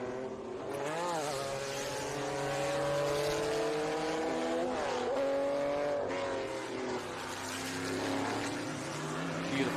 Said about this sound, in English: Nothing better than to hear these cars doing what they were made to do.